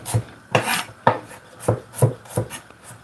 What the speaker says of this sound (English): we need to cut these up now